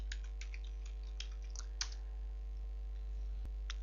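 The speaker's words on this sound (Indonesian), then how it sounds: "buka tab baru, kemudian ketikkan di sana localhost PHP MyAdmin" Someone types a web address on a computer keyboard: a brief run of light, close key clicks at an uneven pace over a steady low electrical hum, no talking.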